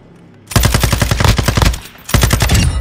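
Machine gun fire in Warzone DMZ comes as two loud, close bursts of rapid rhythmic shots, a long burst followed after a short pause by a second, briefer one.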